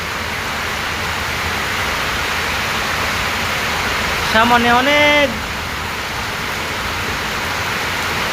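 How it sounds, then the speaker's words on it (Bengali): Heavy rain falls as a steady, dense hiss that continues through the whole clip, with a short stretch of talking near the middle. "আজকে অনেক বৃষ্টি, ঘর থেকে বের হওয়া যাচ্ছে না।"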